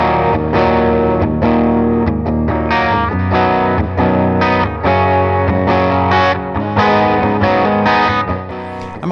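Clean electric guitar played through a pair of tweed amps in stereo with a TC Stereo Chorus, a steady run of picked chords and notes with a shimmering, slightly overdriven tone and light reverb, loud and close throughout.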